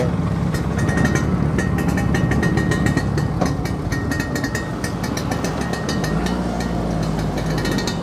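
A motorcycle engine runs steadily and close by before a ride through the hilly country around Sinabung, a continuous low rumble that holds throughout, with a deeper drone settling in near the end.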